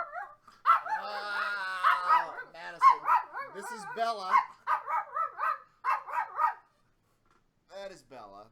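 Bella, a small Yorkie and Jack Russell mix, barks and yaps in short, sharp bursts close by, mixed with a person talking.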